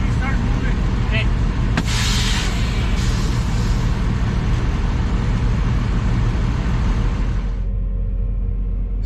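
A big truck's engine rumbles loud and close as it starts rolling onto a small ferry, holding a heavy steady drone before easing down near the end.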